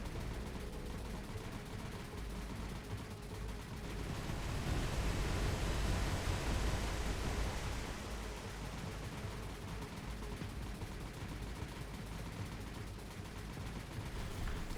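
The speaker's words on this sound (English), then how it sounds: "Every single bomb just straddled the Tonne there." Bombs bursting in the sea around a ship in the War on the Sea game, a broad rumbling wash of explosions that swells in the middle over steady noisy background, somewhat distant.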